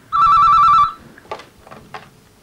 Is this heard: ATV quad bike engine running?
no